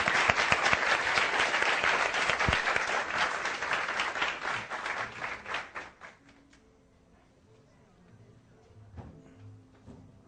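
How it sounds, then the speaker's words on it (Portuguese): An audience at a café philosophique talk on ecological economics applauds loudly with dense sustained clapping for about six seconds, then fades out as quiet voices resume. "gostaríamos de agradecê-lo com um aplauso particularmente para ele"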